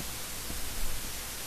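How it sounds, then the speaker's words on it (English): White noise, a steady broadband hiss at moderate level with no other sound over it. "White noise."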